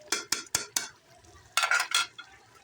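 Beef and potato curry ladled out of a cooking pot: four quick metallic scrapes and clinks, a short pause, then a cluster of louder, closer scooping scrapes against the pot.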